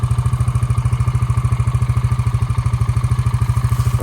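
A Honda ATV engine, left sitting twelve years full of water, runs with a fast, even thumping putter, loud and close, steady throughout with no other sounds.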